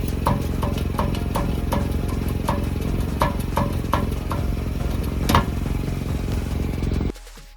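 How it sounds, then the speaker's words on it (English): Car engine idling with a loose exhaust where the pipe joins the rear box, a steady low rumble broken by repeated sharp metallic rattles and knocks at irregular intervals, ending abruptly. "I noticed that the exhaust rattle was still there, so with the engine running, I went underneath"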